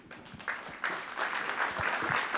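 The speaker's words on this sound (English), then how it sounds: "Round of applause, please." Audience applause at a tech center fall summit swells into a steady, moderately loud wash of clapping from a large room, with no talk over it.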